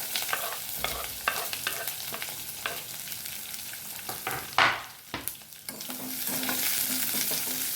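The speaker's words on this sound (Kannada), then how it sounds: "ಸ್ವಲ್ಪ ಫ್ರೈ ಮಾಡ್ಕೊಳ್ಳೋಣ ಈಗ ಈರುಳ್ಳಿ ಹಾಕ್ತೀನಿ" Onions and two small green chillies frying in oil for beetroot palya, a steady close sizzle broken by repeated stirring clicks and a sharp burst of spatter partway through, no voices.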